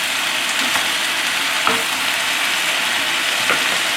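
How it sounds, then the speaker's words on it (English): Two kinds of mushrooms sizzle loudly in a hot pan while being mixed, a steady close frying hiss with a few sharp utensil scrapes and no voices. "I got some mushroom. Two kinds of mushroom. The boys love mushroom. Give them a quick mix."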